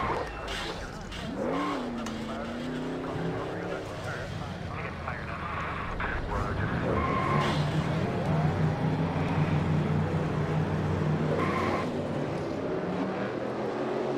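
Race car engines roar in the NASCAR Racing 2003 sim before a Talladega race, with rising and falling revs and overlapping motors droning together. A voice talks over the cars.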